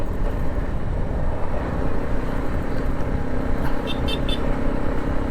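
Dense traffic of many vehicles, including large ones, rolls past on a road near Happy Hills in Awang, Opol, Misamis Oriental, a steady close rumble with a couple of brief high chirps near the end.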